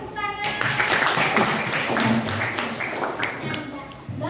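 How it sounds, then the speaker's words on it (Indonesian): A school class claps their hands together, a steady patter of many hands sustained for several seconds, fairly close, with voices talking underneath. "Oke, tepuk tangan."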